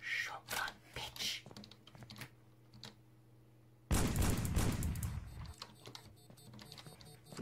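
A loud shotgun blast in the game Sneak Thief on a farm level, one sharp burst with a lingering tail following quieter clicks and shuffling; a voice speaks briefly earlier.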